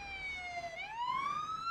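Police car siren in the video game Police Simulator: Patrol Officers, a loud, clean wailing tone that sweeps down and then climbs again, heard alone and close.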